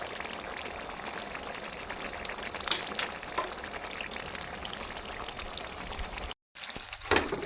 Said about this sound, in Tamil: இப்போ நம்ம ஊறுகாய்க்கு தேவையான கொஞ்சம் வினிகர் சேர்த்துக்கலாம்.